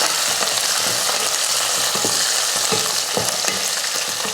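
Okra sautéing in a pan with browned onions, giving a steady, close frying sizzle with scraping stir strokes that recur through the whole stretch.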